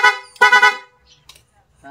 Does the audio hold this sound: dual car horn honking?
yes